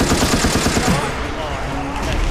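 Rapid gunfire in Resident Evil: Operation Raccoon City aimed at a licker, a dense burst of repeated shots that is strongest in the first second and then gives way to a lower rumbling game din.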